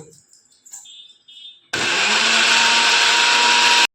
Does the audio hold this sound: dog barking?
no